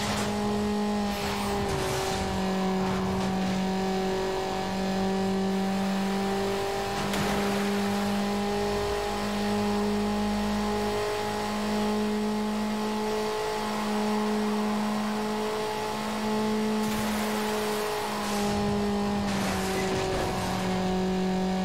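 Need for Speed Underground race on Xbox: steady engine drone with sustained high revs and shifting pitch from the game's car, loud and continuous throughout with brief tire squeal touches and no talk.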